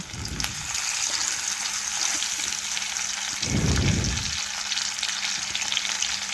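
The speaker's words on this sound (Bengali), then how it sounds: "এখন আমি মাছগুলো এক এক করে তেলের মধ্যে দিয়ে দিচ্ছি" Loud, continuous crackling sizzle of fish frying in hot oil, with a couple of low thumps as pieces drop in.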